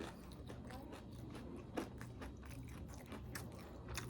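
Close crunching bites and chewing of crispy pork, quiet and continuous with a sharper crunch partway through.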